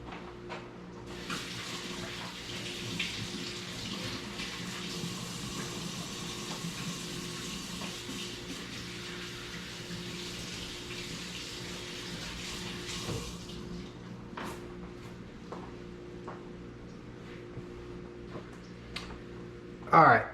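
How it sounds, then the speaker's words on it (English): Tap water runs into a sink while hands are washed in a home kitchen, a steady moderate splashing for about thirteen seconds, then quiet with small clicks and a bump at the end. "I'm gonna wash my hands."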